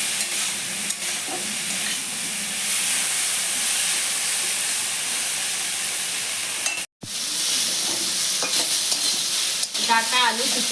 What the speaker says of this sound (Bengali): কিছুক্ষণ ভাজা ভাজা করে নিয়েছি